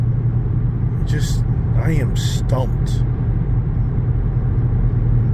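Steady low engine drone from a car with its mufflers and resonators removed, idling or cruising throughout, with someone talking briefly over it.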